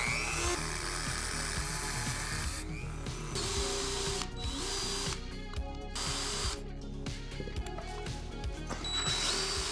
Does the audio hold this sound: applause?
no